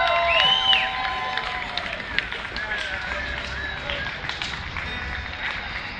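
An outdoor summer concert crowd at Summer in the Park cheers, claps and whistles as the band returns to the stage, a sustained wash of applause with sharp whistles and voices mixed in.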